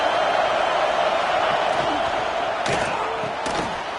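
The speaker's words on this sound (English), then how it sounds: "this crowd imploring its defense to stand firm" A college football stadium crowd roars loudly and continuously, imploring the home defense to hold in the red zone, with a dense, sustained wall of cheering and a few sharp claps or bangs rising above it.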